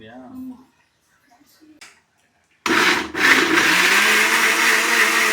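A mixer grinder whirs loudly and steadily as it grinds tomatoes, starting abruptly after a brief voice and quiet kitchen sounds.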